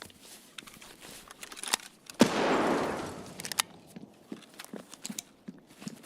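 Video game shooter gunfire: a loud burst about two seconds in, then a spread of sharp, scattered shots and clicks, some near and some farther off, with a faint background wash.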